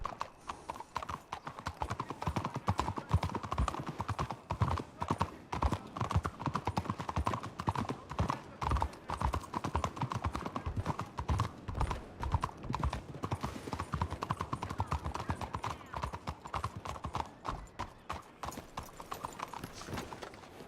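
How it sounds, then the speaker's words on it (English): Video game horse hooves clip-clopping in a fast, continuous trotting rhythm for about twenty seconds, close and steady with no speech over it. "There's a horse outside Haven Apartments."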